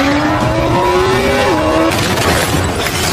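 Tires squeal sharply in a car chase from the Black Widow film, a rising screech over a roaring engine that breaks into a rougher, noisier rush of skidding and impact toward the end, with no speech.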